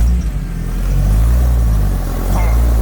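A four-cylinder off-road vehicle's engine rumbles and builds in revs while rock crawling on a trail, a loud, close, low drone with some voices around it.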